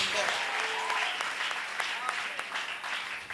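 A church congregation at an evangelical community gathering breaks into sustained, dense applause, with clapping filling the room throughout and voices audible alongside it.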